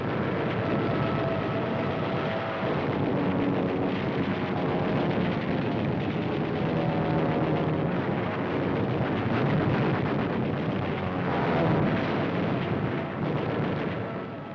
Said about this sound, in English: Out of the sky they roar with wing cannon blazing, tearing into ships of every description